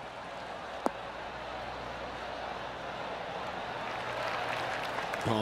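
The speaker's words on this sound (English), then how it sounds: "Oh, golf clap." Golf gallery at the 16th hole of the Genesis Scottish Open final round breaks into steady, distant applause that swells slightly toward the end, with a brief sharp knock near the start.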